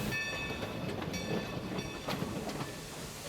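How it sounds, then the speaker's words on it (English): Engine 45, a 1924 Baldwin steam locomotive on the Skunk Train, rumbles and rattles along the track. Wheels clack rhythmically and metal squeals thinly, held at a steady moderate distance with no voices. "the locomotive right behind me today is engine 45. It's a 1924 built Baldwin steam locomotive"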